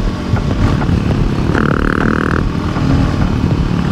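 A Voge 300 Rally motorcycle rumbles over a bumpy trail, a steady engine drone with clattering and rattling from the suspension absorbing the ruts, and a brief higher whine midway.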